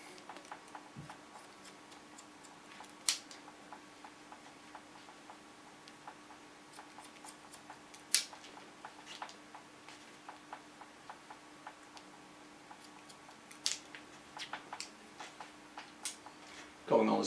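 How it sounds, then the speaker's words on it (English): Scissors snip hair during a bob haircut, making faint, scattered crisp clicks in uneven bursts over a quiet room hum. "comb the hairs nice in the roundings and cut them on the line"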